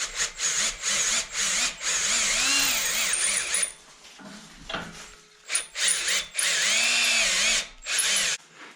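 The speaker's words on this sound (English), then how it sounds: "so we can just drill straight down, hopefully reach that other hole" A power drill whines loudly as it bores down into a wooden shovel handle, running in several bursts with short pauses between them.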